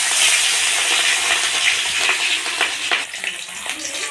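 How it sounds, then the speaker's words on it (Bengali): Rohu fish fries in hot oil, producing a loud, close hissing spatter that holds steady and then breaks into more uneven crackles and pops toward the end. "তেলটা দিয়ে মাছটা ভেজে নিই।"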